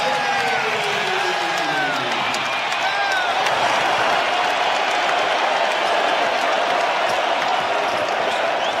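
Crowd in a college basketball arena at a Michigan vs Wisconsin game cheering and applauding, a steady roar that carries throughout while a commentator talks over it.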